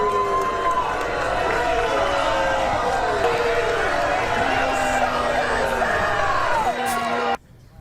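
Crowd chanting for Congresswoman Elise Stefanik to hold a town hall, a dense, continuous roar of many voices with rising and falling shouted calls, loud and close, cutting off abruptly near the end.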